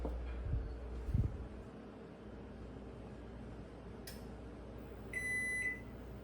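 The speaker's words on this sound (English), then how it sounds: "let's test out the microwave with some water at 77 degrees Fahrenheit" A microwave oven heating water hums steadily while running on an Oupes Mega 1 LiFePO4 portable power station, with a couple of thumps at the start and a short electronic beep near the end.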